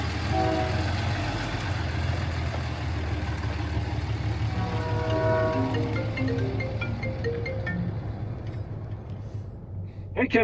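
A Kenworth truck rumbles past close by in a city at night, a heavy low engine drone with a rising and falling whine, plus a brief hiss of air brakes at the very end.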